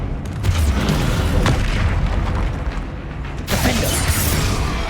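A heavy spell impact slamming down in a Hogwarts Legacy troll fight: loud booming thuds amid continuous battle noise, with a strong hit near the start and another around the three-and-a-half-second mark.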